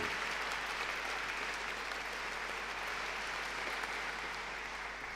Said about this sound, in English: So a round of applause now, please, for parents, guardians, family members.